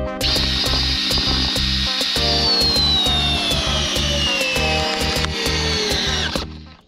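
Makita DDF485 cordless drill driving a 12 mm screw without a pilot hole, a loud close whirring motor that strains with falling pitch and rhythmic clutch clicking, then stops abruptly.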